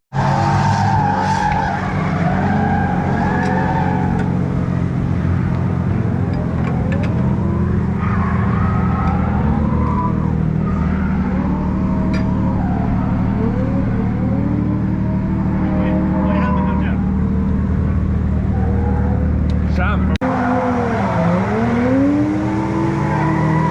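Cars drift around the Ebisu circuit with continuous tire squeal and wailing engine revs, the screech rising and bending in pitch as the cars slide through corners, loud and sustained, with occasional voices talking underneath.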